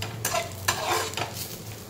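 Cashews, onion and grated coconut sizzle in a pan, a steady close frying hiss broken by a few brisk stirring scrapes.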